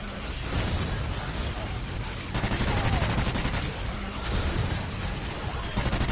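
Dual pistols fire in fast, relentless bursts during chaotic game combat, dense cracking shots in repeated waves with short gaps between volleys, loud and close.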